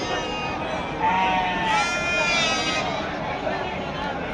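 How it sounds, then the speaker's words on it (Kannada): Top-quality female Bandur sheep in Mandya bleat in thin, wavering cries over a steady din of crowd chatter and noise, fairly close but partly masked. "ಇವು ಒಳ್ಳೆ ಕುರಿ ಆಯಿತು"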